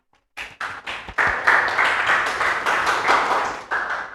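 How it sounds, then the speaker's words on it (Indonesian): A classroom of students claps together after a teacher's prompt, beginning with a few scattered claps before swelling into a close, steady burst of hand clapping that continues throughout. "Tepuk tangan."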